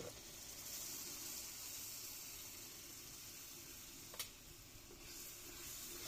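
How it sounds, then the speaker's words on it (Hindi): Yogurt and spices cook with fried tomato in a pan in an outdoor mud kitchen for chicken bhindi, giving a continuous soft sizzle and bubbling with one brief clink of a utensil partway through. "दही के पानी में अच्छी तरह से सारे मिसालों को पकाएंगे हम"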